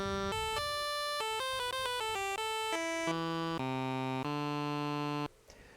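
The Audiothing Minibit synth plugin plays its voice waveform, a buzzy, formant-like retro tone, as a stepping melody that moves from quick high notes down to longer, lower held notes before stopping sharply. No talking.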